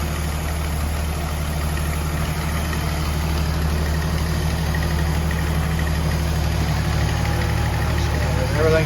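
Car engine idling steadily after an engine and transmission installation, with a low constant hum and a faint ticking valve noise, close and continuous with no talk over it.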